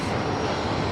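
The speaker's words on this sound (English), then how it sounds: "There's my airplane going by right there." A small private airplane flying overhead gives a brief, steady, fairly loud propeller-engine drone, heard alone.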